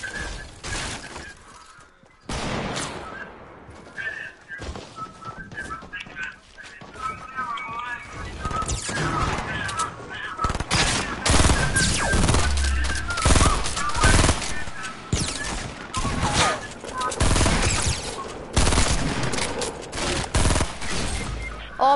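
Dense, continuous automatic gunfire and sharp impact cracks from a battle royale video game, loud and chaotic for over twenty seconds, with overlapping bursts and shattering hits and occasional voices mixed in.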